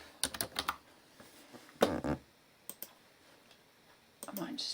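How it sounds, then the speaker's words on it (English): Typing on a computer keyboard: a few quick bursts of crisp key clicks with pauses between them, close and fairly quiet. "Let's type in birthday."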